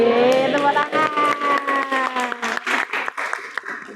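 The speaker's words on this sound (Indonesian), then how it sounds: "Yeay, tepuk tangan." A small classroom audience claps and cheers before a group presentation, with bright overlapping hand claps and excited voices, fairly close and lively, tapering into scattered claps.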